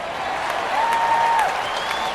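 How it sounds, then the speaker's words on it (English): A stadium crowd at a simulated football game roars and applauds in a steady, dense wash that stays even throughout, with a thin whistle-like tone rising faintly above it. "you hear the crowd looking forward to this brand new season of HTFL play"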